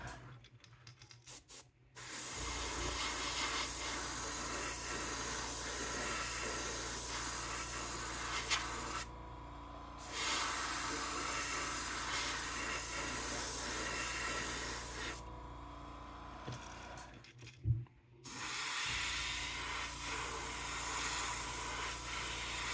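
Airbrush spraying paint onto a square bill crankbait, a steady close hiss in several long bursts separated by short pauses.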